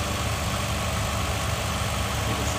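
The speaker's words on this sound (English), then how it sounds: "This is your 6-cylinder engine." A 2007 Toyota Camry XLE's 3.5-liter six-cylinder engine idles under the open hood, giving a steady, even hum and vibration with no change in pitch and no talking.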